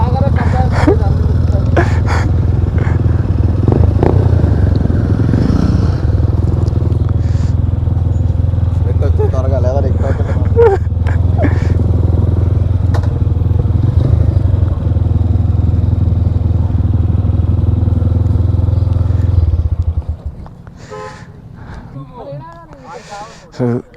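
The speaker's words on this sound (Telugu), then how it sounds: "సో ఇవి కొన్ని బైక్స్." A group of motorcycles on a Sunday ride idles and revs together in a steady, loud engine drone with clatter, as people talk over it. The engines cut off abruptly near the end, leaving quieter voices.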